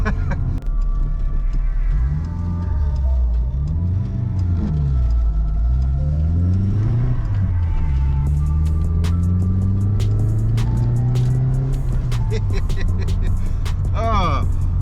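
Small 1980s–90s Vauxhall Nova engine revving loudly and rising in pitch through several gear changes as the wheels spin, a constant close rumble with voices talking over it.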